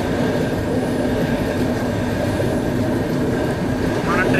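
Coromandel Express passenger train rolls along the rails near Rajahmundry, a steady loud rumble with rhythmic wheel clatter heard from inside a coach, with a faint squeal near the end.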